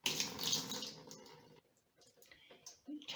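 Rinse water poured out of a sprouting jar through a cloth cover, a brief splashing gush at the start that fades within about a second, followed by faint drips and small handling sounds.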